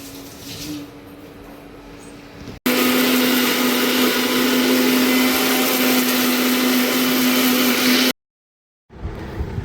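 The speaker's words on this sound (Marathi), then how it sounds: "टोमॅटो आहे ना कट करून पेस्ट करून घेते मी त्याची" A kitchen blender purees cut tomatoes into paste, a loud steady whirring drone running for about five seconds before cutting off abruptly, with quieter motor noise before and after.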